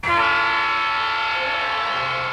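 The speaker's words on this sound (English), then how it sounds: "McCain waves from the back of a train as it does a whistle-stop tour through one of Arizona's towns" Train on a campaign whistle-stop tour through an Arizona town, its loud horn blaring in a sustained, layered tone from the start, with low rumbling rail noise underneath as the blast carries on.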